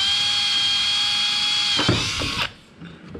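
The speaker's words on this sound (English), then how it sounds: "So I've marked my holes where I'm going to drill for these circuits." A power drill whines steadily at high speed for nearly two seconds while boring holes for 12-volt circuit wiring in a custom tray setup, then slows and stops, followed by a few faint handling clatters.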